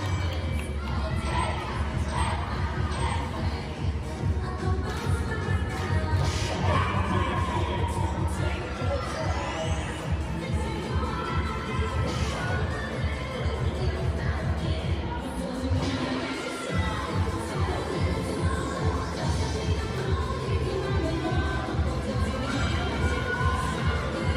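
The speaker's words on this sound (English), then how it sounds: "Let's check in on the cheer team from Foothill High School" Foothill High School cheer team cheers and shouts loudly in unison to a steady pounding beat, with crowd noise carrying throughout and a brief pause near the middle.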